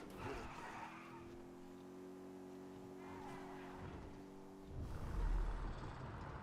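Car in GTA V speeding along with a steady engine drone, then a loud skid and rumbling impact near the end as it curb-boosts, with no talk.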